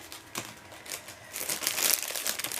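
Plastic packets holding small wooden tags crinkle and crackle as they are torn open, close and fairly loud, growing busier toward the end with no talking.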